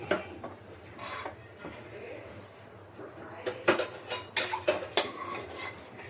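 Cooked food being dished out of a kadhai into two plates, with a utensil scraping and clinking against metal in a run of sharp, close knocks that grow louder and more frequent toward the end.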